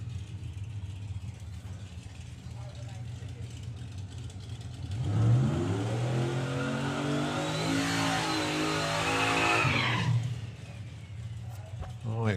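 A Volvo drag race car accelerating hard down the strip at a sportsman nationals test day, its engine note climbing through the gears over a background idle, loud for several seconds before fading.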